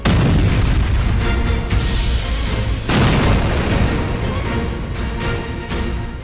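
A heavy booming blast from an air strike on Syria fills the sound, loud and continuous with rumbling low-end roar, then a second sharp burst midway, dense and unbroken throughout.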